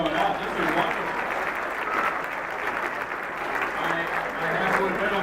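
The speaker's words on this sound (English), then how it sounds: "Give yourselves a round of applause for coming out." Sustained applause from a crowd at a Woonsocket High School event, a steady wash of many hands clapping for several seconds at moderate level, with a few voices faintly mixed in.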